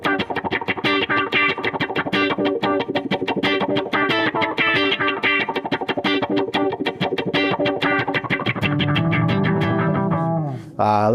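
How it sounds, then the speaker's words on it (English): Wah echo delay patch on an Eventide H9 MAX harmonizer multi-effects pedal, a loud electric guitar line of rapid picked notes with swept, repeating echoes that ring out and decay alone at the end. "Wah echo."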